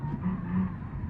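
A V6 car engine in the video game BeamNG.drive runs with a steady low rumble and throaty hum, close and continuous, with no talking.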